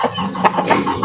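Native roosters give short, close clucks in a quick broken run lasting about a second.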